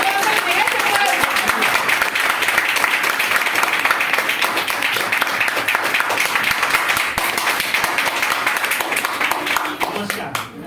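Loud, sustained applause from an audience welcoming a speaker at a business training event, steady clapping from many hands for about ten seconds before easing off.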